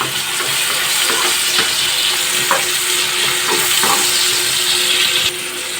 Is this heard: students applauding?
no